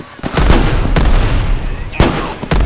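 Loud booming blasts from a grenade launcher in Left 4 Dead 2, three or four heavy thumps spaced irregularly over continuous rumbling game noise.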